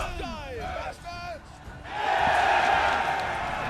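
Soldiers cheering in battle in the Manor Lords medieval strategy game, a crowd of whooping voices swelling loudly in the latter half after a few shouted calls.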